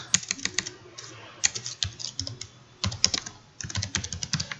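Typing on a computer keyboard while writing SQL during a tutorial, bursts of quick clicky keystrokes close up with short pauses between runs, no talking.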